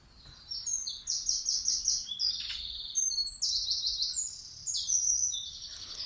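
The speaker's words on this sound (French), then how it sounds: "Ça n'empêche pas les oiseaux de chanter et les gens de faire quelques travaux dans le voisinage." Birds singing outdoors in a neighbourhood, bright rapid chirping trills repeating in bursts from a couple of birds, clear and moderately near over faint background hum.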